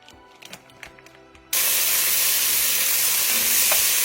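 Twelve half-slices of bacon go into a hot Dutch oven, and after a few quiet clinks a loud, steady sizzle starts suddenly and holds close and even.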